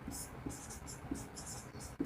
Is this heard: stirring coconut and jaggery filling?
no